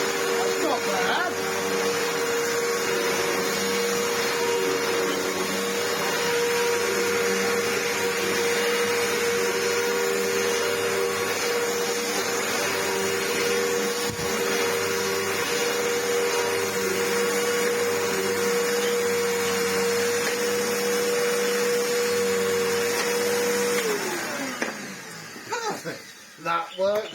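A Samsung SU-2911 Jet Propel Light vacuum cleaner runs steadily on carpet with a loud, continuous motor whine and airflow roar that holds for a long stretch, then cuts out near the end.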